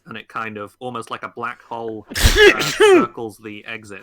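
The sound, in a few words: sneeze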